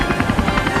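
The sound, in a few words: helicopter flying, cartoon sound effect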